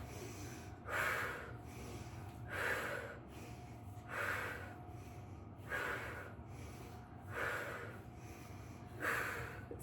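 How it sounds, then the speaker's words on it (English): A person doing a core workout breathes out in six strong, evenly spaced exhales a little under two seconds apart, close and airy, with no talking. "So make sure you hear the breath."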